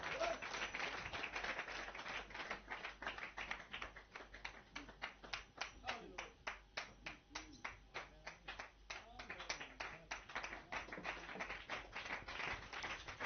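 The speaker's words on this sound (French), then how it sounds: "Donnez-lui une main d'acclamation." Steady rhythmic clapping from a church congregation, even and sustained throughout, with faint voices mixed underneath.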